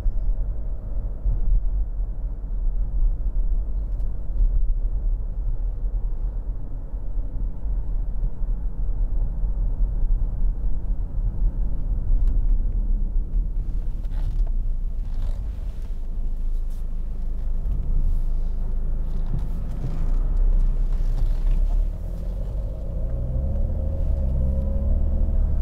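Jaguar XF 2.2 litre diesel saloon from 2012 driving on a road, a steady low engine rumble and road noise throughout, rising slightly toward the end with no talking.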